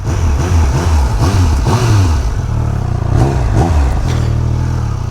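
A 2023 Triumph Speed Triple RS 1200 motorcycle in sport mode accelerates hard, its engine revving loudly and continuously with rising and falling pitch through the gears, close and dominant throughout.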